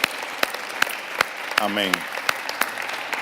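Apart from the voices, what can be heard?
applause for the teachers in church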